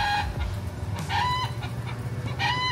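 Among free-roaming chickens in Thailand, a rooster crows in short repeated calls at a moderate distance, with low clucking and background noise in between.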